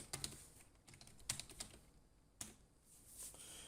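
Typing JavaScript code on a computer keyboard, a few sharp key clicks and short bursts of keystrokes at close range with quiet pauses between them.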